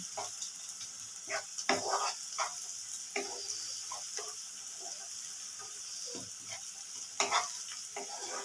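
Soft, low sizzle of potatoes frying in a pan until reddish, broken by intermittent clinks and scrapes of stirring.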